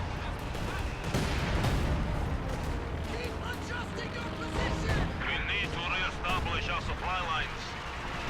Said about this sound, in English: ML-20 firing somewhere here in the back at the mortar, I guess